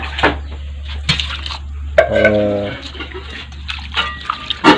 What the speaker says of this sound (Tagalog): Hugasan po natin ng tubig.